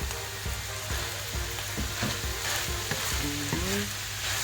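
Sliced eggplant for tortang talong fries in a pan with a dense, steady sizzle, broken by occasional clicks and scrapes of a utensil and a short squeak near the end.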